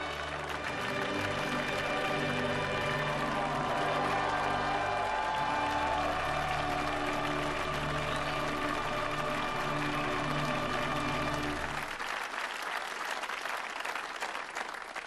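Dense crowd applause and cheering for Pope Francis at the Vatican, steady and loud for about twelve seconds before dropping to a quieter hum.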